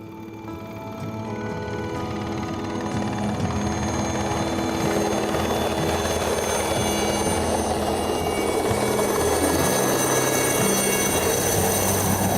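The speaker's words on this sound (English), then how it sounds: "just waiting for the choppers to come" Helicopter arriving at a remote mountaineering base camp near Carstensz Pyramid to collect climbers, its steady rotor thrum and turbine whine holding loud and close for the whole stretch, with no voices.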